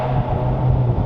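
Subaru WRX engine, tuned to around 300 horsepower, held under light throttle near 3,500 rpm, giving a steady deep resonant rumble for about a second, close up with no voices.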